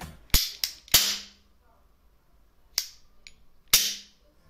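Sharp cap-gun style cracks from a homemade LARP cowboy toy gun, three quick shots in a burst, then two more after a pause, each loud and close with a brief ringing tail.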